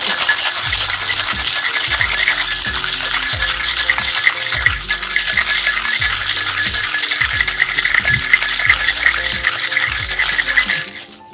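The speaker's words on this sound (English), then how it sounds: "lock our tin, and give it a good shake." Ice rattling hard inside a metal cocktail shaker tin, a steady rapid back-and-forth rhythm, loud and close, lasting about eleven seconds before stopping.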